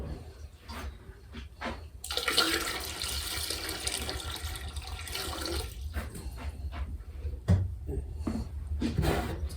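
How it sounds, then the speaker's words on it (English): Water pours and splashes into a metal water bath canner on a gas burner, a loud rushing stream starting after a couple of seconds and fading out, with clinks and handling knocks around it. "so I need to add a bit more water to that"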